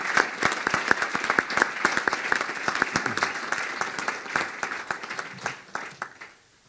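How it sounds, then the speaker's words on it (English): Warm applause from an audience at a journalism awards ceremony honoring a deceased journalist, a sustained mix of many hands with some prominent close claps, gradually thinning and fading out near the end. "I think in Peg's case, we should opt for the applause."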